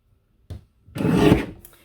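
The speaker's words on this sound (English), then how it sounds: "let's just put it horizontally into the trimmer. We'll cut at 10 3/4" A paper trimmer slices through a card panel at a crafting workshop: a short click, then a half-second rasping slide of the blade across the card, close and clear with no talking.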